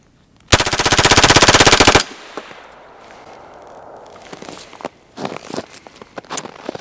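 A 5.56 rifle fires full auto in one long, loud, rapid burst of about a second and a half, followed by quieter clattering and thuds, with no talking.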